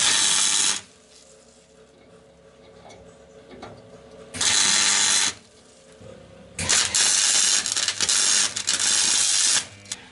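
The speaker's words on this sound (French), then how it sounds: "je vais mettre un petit point de soudure pour que mon écroucage" Spot welds tacking a square nut onto a seat belt mount on a Citroën Traction 11B, heard as two loud bursts of crackling buzz separated by quieter workshop noise.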